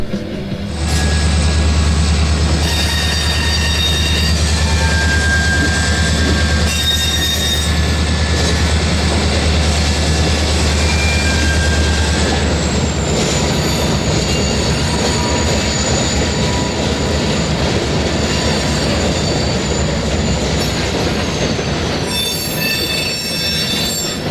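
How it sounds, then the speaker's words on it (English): A freight train rolls slowly through a rail yard in Oklahoma City nearby, its wheels squealing in long high-pitched whines over a heavy rumble and occasional clanking, with no voices. "There was already a train moving as soon as we pulled up."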